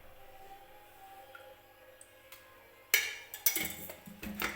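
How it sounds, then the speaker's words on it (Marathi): Cooking oil poured into a hot pressure cooker before mutton curry, a sudden loud sizzle bursting in after a quiet stretch, crackling and spitting in uneven surges up close. "तर मी सुरुवातीला तेल टाकून घेते कुकरमध्ये."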